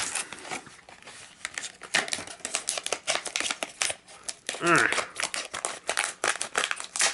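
Crinkling and crackling of stiff plastic packaging of Topps Star Wars collectible discs being handled and pulled open, in irregular bursts with a few brief tearing sounds.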